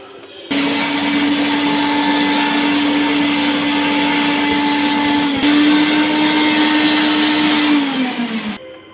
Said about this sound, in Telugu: ఇదంతా మిక్సీకి అయితే పట్టేద్దాము